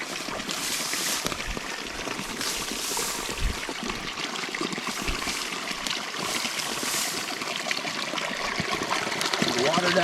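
Stream water trickles and gurgles steadily over rocks in an outdoor crossing spot, close and continuous, with faint rustling movement nearby.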